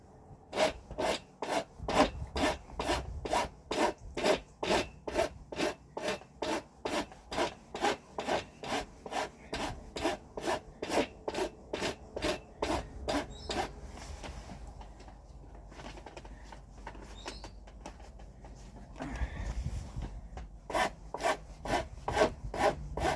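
A coarse rough file rasps rhythmically across a wooden staff top, dozens of quick regular strokes that slow and thin out midway before a few heavier bursts resume, close and alone with no talking.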